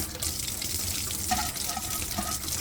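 Water spurting and splashing from a faucet being flushed of air on the hot side, a steady close rushing stream with small irregular sputters.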